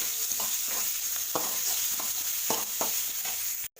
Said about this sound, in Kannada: ಹಸಿಮೆಣಸಿನಕಾಯಿ ಹಾಕಿ ಎಣ್ಣೆಯಲ್ಲಿ ಬಾಡಿಸ್ಕೋಬೇಕು.